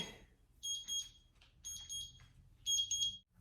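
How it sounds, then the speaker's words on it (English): A kitchen timer beeps in three quick bursts of rapid high-pitched electronic chirps, fairly quiet, with short pauses between bursts. "That's my timer, wait."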